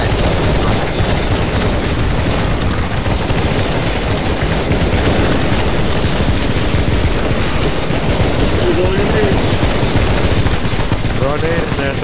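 Dense, continuous gunfire rattles nonstop from CS:GO zombie escape on the cyberpunk map, with rapid automatic bursts blending into a thick wall of shots throughout.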